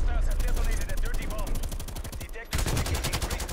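Suppressed Krieg rifle firing in Call of Duty Black Ops Cold War, a rapid run of sharp, close automatic shots with a brief pause before a second burst, mixed with game sounds.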